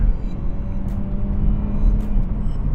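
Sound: Mercedes-Benz C180 CGI Coupe W204 driving and accelerating

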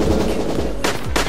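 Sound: gunshots in video game Tiny Troopers Joint Ops

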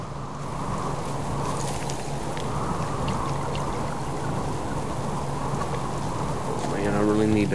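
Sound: storm rain in the video game Subsistence

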